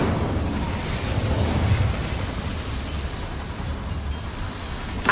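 A fire spell cast in Hogwarts Legacy, heard as a loud, continuous roaring whoosh of flame that fills the whole stretch without a break.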